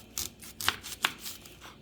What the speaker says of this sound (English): Now what I do then, I take my knife and I just cut them in half.